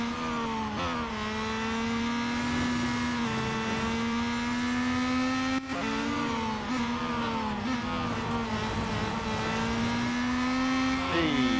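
A race car slides in Real Racing 3, its engine whining loud and continuous, with the pitch dipping and climbing as it drifts through corners and gearshifts.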